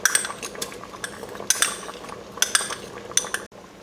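A diluted mixture goes into a pot of Moroccan-style soup with sharp metallic clinks and scrapes of a utensil against the pot and container, repeated in uneven bursts over a low background.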